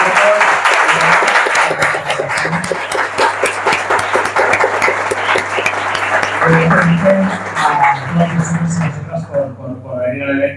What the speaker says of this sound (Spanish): un fuerte aplauso para Jordi, Marcos